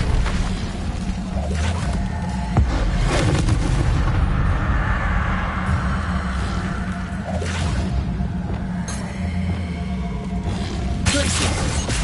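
Spells and explosions in Hogwarts Legacy crackle and boom in rapid succession, with bursts, whooshes and impacts layered densely over a constant rumble for several seconds.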